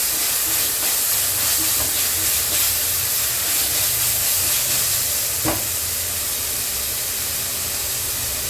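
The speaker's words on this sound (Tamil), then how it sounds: "போட்டு இதையும் நல்லா வதக்கிடலாம்" Ginger garlic paste sautéing in a pan, a loud, steady hiss like steam that carries on unbroken, with one short knock partway through and no speech.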